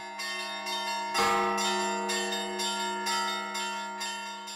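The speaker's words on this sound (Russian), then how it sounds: "патриарха Московского и всея Руси Кирилла в полдень во всех храмах Русской Православной Церкви в рамках акции «Слава тебе, Божие» прозвучал колокольный звон." Church bells ring at noon at an Orthodox church, St. Michael the Archangel in Birsk: loud, sustained metallic tolls struck in a steady rhythm about once a second, rich overtones ringing on between strikes, alone without voices.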